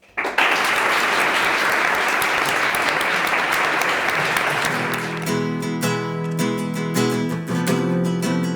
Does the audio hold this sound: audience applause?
yes